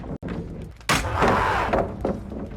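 Wraith pallet stun in the Dead by Daylight video game: a heavy thud followed by a loud, trumpeting, elephant-like roar with shorter groaning bursts after it, over game ambience.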